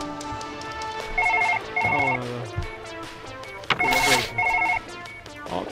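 A telephone rings in the video game Surgeon Simulator 2013, sounding in repeated short trilling bursts with brief gaps, loud and close, alongside scattered in-game clatter.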